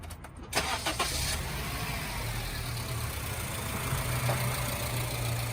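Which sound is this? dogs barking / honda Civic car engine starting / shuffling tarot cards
honda Civic car engine starting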